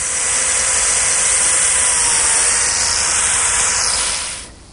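A biscuit joiner cuts a slot into a wooden table rail with a loud, close, steady high whine and hiss that lasts about four seconds, then cuts off as the motor winds down.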